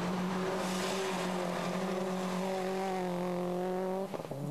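A rally car engine revs hard on a closed dirt road, a loud sustained tone climbing steadily in pitch before cutting off abruptly near the end.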